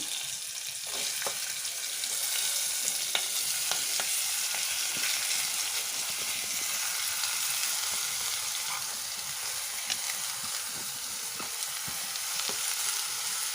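Onions fry in a pan for an egg and raw prawn curry, giving a steady, fairly loud sizzle throughout with light scraping from intermittent stirring.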